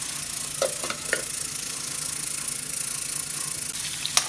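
Potatoes fry gently in a covered pan, giving a soft, steady sizzle with a few faint pops and crackles scattered through, quiet and close, no voices.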